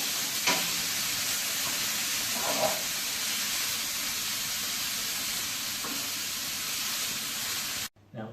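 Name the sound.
venison meat browning in a pot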